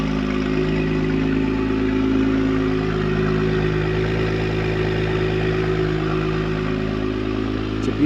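An Acura NSX NC1 supercar engine fitted with Science of Speed downpipes drones steadily and loudly for the whole stretch, a smooth mid-pitched exhaust tone with faint clatter and slight swells, no voices.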